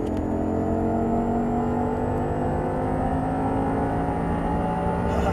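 Steady, close engine drone from an Audi R8 accelerating on a track, with a sustained whirring tone holding through the clip and no talking.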